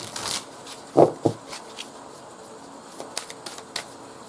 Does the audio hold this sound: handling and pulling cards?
yes